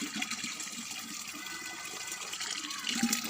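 Water runs steadily from a hose into household containers, a continuous close, splashing fill that grows slightly louder toward the end, with no talking.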